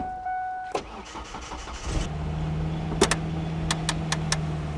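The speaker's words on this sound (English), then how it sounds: "So we're gonna start the vehicle up, apply the brakes, and hit the gas" A car engine cranks briefly, then catches and settles into a steady idle, close and fairly loud, with a few sharp clicks riding over the running motor.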